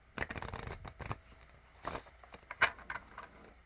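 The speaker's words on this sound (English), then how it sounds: "So we're going to do a little shuffle here and see what message is made for you for this session." Rune cards being shuffled by hand nearby, with bursts of riffling and soft slaps in an uneven rhythm, quiet overall with short pauses between.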